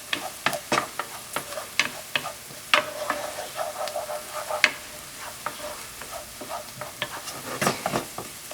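Ground beef seasoned with salt, pepper and garlic powder is sautéed in a pan with vegetables, with a constant close sizzle broken by irregular scraping and clicking stirring strokes from a utensil against the pan.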